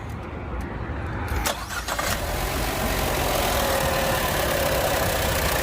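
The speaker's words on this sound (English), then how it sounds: "Start the engine again." A Chevy 1.4L Ecotec engine in a Cruze, Encore, Trax or Volt cranks briefly and catches, then settles into a loud, steady idle heard up close.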